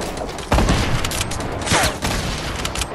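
Fortnite gunfire: loud bursts of shots and booms from a battle, with sharp impacts mixed into a busy, noisy game soundscape.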